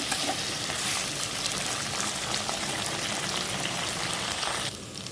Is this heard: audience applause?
no